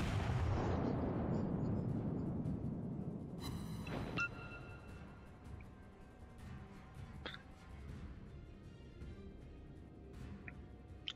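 Ship secondary guns fire in World of Warships, a loud booming blast at the start fading into a long rumble, followed by sharp scattered gunshot cracks further off.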